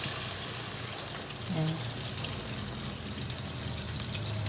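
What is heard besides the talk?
pouring water into pot for chicken soup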